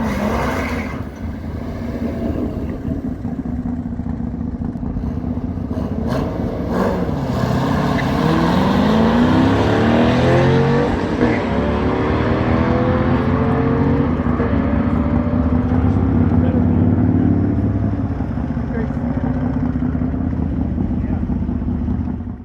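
A C6 Corvette with an LS2 V8 making a drag strip run, a loud sustained engine roar climbing through rising gear sweeps, close and continuous for the whole pass with wind rush underneath.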